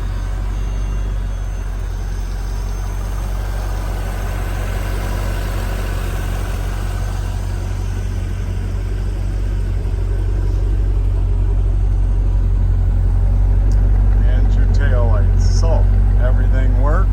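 A 1999 Chevrolet Corvette engine runs smoothly at a steady idle, a strong low rumble holding even throughout, with a voice speaking faintly over it toward the end.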